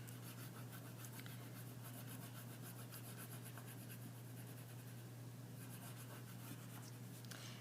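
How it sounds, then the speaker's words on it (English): White oil pastel rubbed across paper to colour in a ground area, a faint, continuous scratchy scrubbing in repeated strokes over a low steady hum, no voice. "I'm going to color in underneath that to be the ground."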